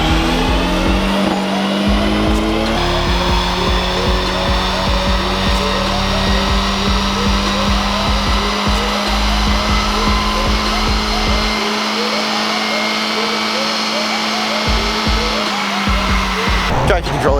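A Mini Cooper engine at full throttle on a chassis dyno, loud and close, with a sustained high-revving roar that climbs and holds, briefly dips mid-run, then surges again before cutting off.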